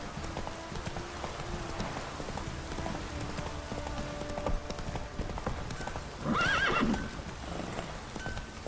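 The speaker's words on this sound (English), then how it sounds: "Whoa there, Roach." A horse in The Witcher 3 video game clip-clops steadily at moderate distance, then gives a sharp, loud neigh near the end.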